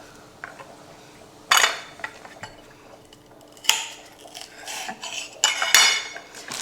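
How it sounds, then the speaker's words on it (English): Red peppers are placed on a plate for fondue night, giving a few clinks and clatters of cutlery against dishes. Sharp contacts come in separate bursts over a quiet background. "Just gonna arrange our red peppers on the plate."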